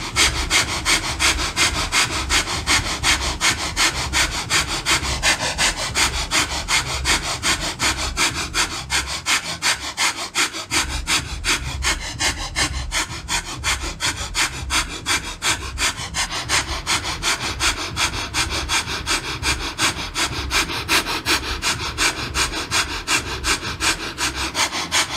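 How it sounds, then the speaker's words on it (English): Rapid, forceful nasal breathing in Kundalini yoga breath of fire, a fast unbroken pumping rhythm of sharp sniffing exhales that continues loudly and evenly, with one brief pause midway. "begin the breath of fire"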